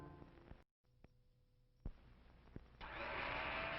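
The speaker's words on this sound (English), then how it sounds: "It's a General Electric blender that's going around." A General Electric blender from an old TV commercial whirs steadily, its motor noise rising into a loud, sustained roar after a brief cutout and a couple of sharp clicks.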